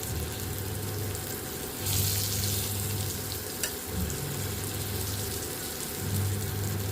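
Thick fish pieces frying in a pan give off a continuous bright crackling sizzle, close and fairly loud, with a few sharp pops along the way and no talking.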